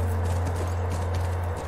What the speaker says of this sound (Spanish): Es nuestro caballo, debe estar ahí.